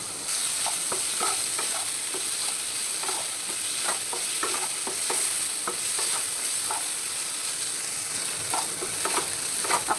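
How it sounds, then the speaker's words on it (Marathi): Paneer frying in a little oil in a kadai, a close, steady sizzle with frequent light scrapes and taps from stirring throughout, no voices. "आता आपल्याला कढईमध्ये पनीर फ्राय करून घ्यायचं आहे त्यात मी थोडंसं तेल टाकते"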